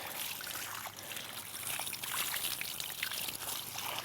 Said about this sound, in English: I want to do this until the water runs clear.